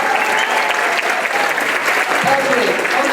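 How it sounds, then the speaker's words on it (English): An audience at a school spring band concert applauds a trumpet soloist, steady dense clapping filling the room for the whole stretch with a faint voice or two underneath. "Give him a round of applause."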